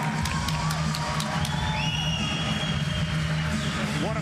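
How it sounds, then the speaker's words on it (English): An arena crowd at a Bellator MMA event at the Mohegan Sun Arena cheers after a fight, a loud continuous roar of voices with whistles and whoops throughout. "we'll hear this crowd"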